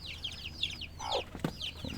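Chickens cluck in short repeated bursts, with a few higher squawks, fairly quiet and close, from a small backyard flock of about eight laying hens, with no talking.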